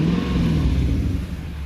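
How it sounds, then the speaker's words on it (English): A Lexus SC 430's 4.3-litre engine rumbles loudly and steadily up close, with a deep, throaty low tone and slight swells in revs. "Engine sounds strong."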